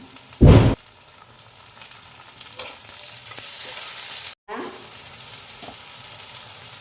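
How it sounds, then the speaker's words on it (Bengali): Onions sizzle and fry in a pan with chopped tomato, a steady hiss broken by a brief loud burst early on as ingredients go in, then a short gap before the frying resumes. "আমি একটু পেঁয়াজগুলো ভেজে নিব টমেটো কুচানোটা দিয়ে দিলাম"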